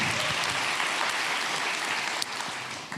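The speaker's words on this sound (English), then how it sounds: "Yeah, give applause." Steady applause from a large audience filling a Comic Con Baltics 2023 panel hall, dense and sustained clapping throughout with a brief dip near the end.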